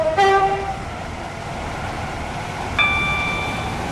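Chime-like tones mark a train arriving at a station in the Stepford County Railway video game, a bright multi-note ding near the start and another tone near the end over a steady, moderately loud rolling rumble.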